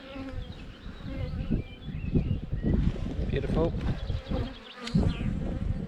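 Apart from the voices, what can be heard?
honey bees buzzing during hive inspection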